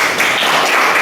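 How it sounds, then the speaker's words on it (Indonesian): Students clap for a classmate in a school classroom, producing a steady burst of applause, close and fairly loud, lasting about a second. "Jadi kasih tepuk tangan buat Azal ya."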